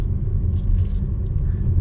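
A stock Chevrolet Camaro RS V6 drives along, its engine a steady low rumble with road noise that stays close and even throughout, with no talking.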